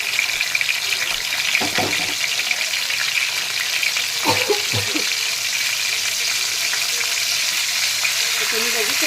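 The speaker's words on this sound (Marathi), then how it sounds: "तेल गरम झालं त्यामुळे कोळंबी आपली छान अशी फ्राय होते" Marinated prawns frying in hot oil, a dense, bright, continuous sizzle with a few spatula scrapes and knocks against the pan.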